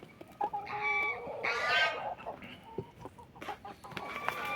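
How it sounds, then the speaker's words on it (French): Clucks and short calls from an old breeding rooster in a farmyard, several uneven bursts over a few seconds, fairly close, with other fowl noise around. "C'est mon coq reproducteur qui commence à être très vieux."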